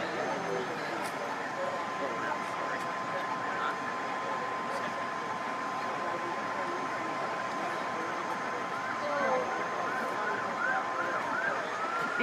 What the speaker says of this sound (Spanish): Y siguen llegando pues más patrullas.